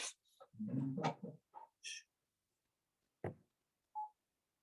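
A few short electronic tones, like phone keypad beeps, spaced apart after some quiet rustling and breathy noise, fairly faint overall, as a phone is dialed during a city council meeting.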